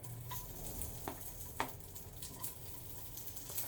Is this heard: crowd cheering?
no